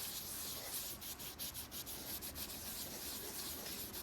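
A used LS engine is scrubbed with paint thinner to clear baked-on carbon. Close, continuous rough rubbing repeats in quick strokes at low volume, with no talking.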